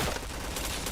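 Rapid bursts of gunfire in a video game, ending a chain of headshots, crackle continuously at close range with a dense, even loudness throughout.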